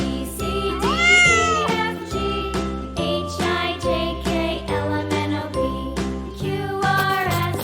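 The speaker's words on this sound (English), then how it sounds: "C for cat." A cartoon-style cat meows over cheerful, tinkling children's background music, with a couple of short, bright mews standing out clearly above the tune.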